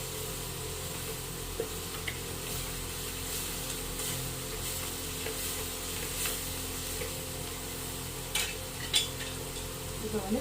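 Tomatoes sauté in a clay pot for fish curry, giving a steady, soft, close sizzle under a low hum. A few light clinks of a utensil come near the end, with no speech.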